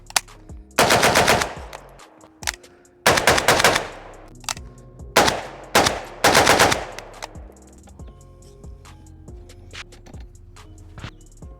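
An AK rifle fitted with a JMac RRD 4C muzzle brake fires at an outdoor range, four loud, sharp shots with echoing tails, the last two close together, then quiet.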